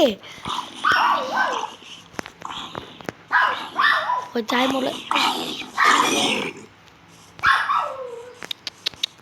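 A dog barks and yips repeatedly in short bursts, fairly close, with whining in between, while someone talks over it during a Minecraft PE game.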